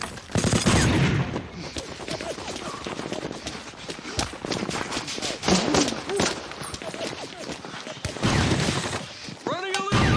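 Heavy gunfire in a D-Day war film battle scene, a loud sustained barrage of bursts and shots mixed with shouting voices and movement, cresting in dense volleys near the start and end.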